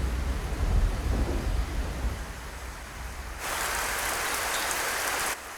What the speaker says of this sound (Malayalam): മഴ ഇപ്പൊ എവിടുന്ന് വന്നു?